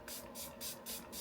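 Makeup setting spray is misted onto a face in three quick, evenly spaced bursts, each a soft, close hiss.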